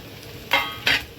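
Peas go into a pan of fried onion in a Maharashtrian home kitchen, giving two short bursts of sizzling and stirring, each about a third of a second long, close and fairly loud against a quiet background.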